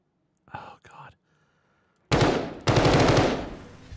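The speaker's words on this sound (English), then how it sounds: "that guy's just shooting through walls" Gunfire shoots through walls in a video game, two loud sustained bursts of rapid automatic fire following brief whispered speech.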